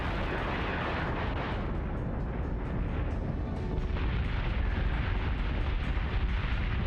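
Torpedo impacts on ships in the space combat game Battlestar Galactica Deadlock, heard as a dense, continuous rumble of overlapping explosive booms that grows louder toward the end, with no voices.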